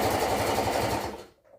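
Sewing machine stitching baggy pants in one loud, close, continuous burst of rapid stitching that winds down and stops near the end, no voices.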